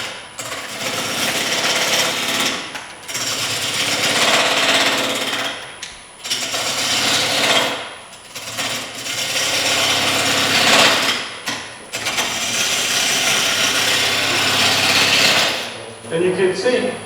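Woodturning gouge cutting wood on a lathe: a harsh, steady scraping whir in long passes of a few seconds each, broken by short pauses, with a faint background hum.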